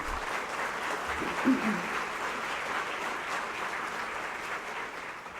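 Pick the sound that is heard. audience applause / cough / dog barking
audience applause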